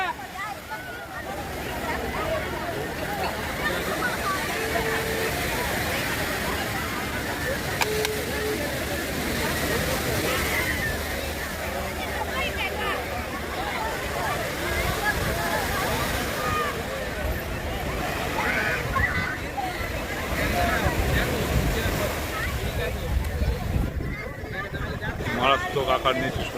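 Strong sea waves surge continuously at Puri beach in the morning, a dense, steady roar of surf with wind buffeting the microphone and faint crowd babble from bathers in the water.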